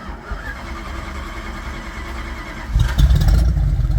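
The 318 engine of a 1974 Bombardier wide gauge cranks and catches near the end, turning a low churning rumble into a louder, rough-running roar as it fires up.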